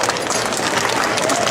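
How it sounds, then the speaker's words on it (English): Dense, steady applause from a large audience at a stage hypnosis show, loud and continuous for the whole moment. "Give them a round of applause."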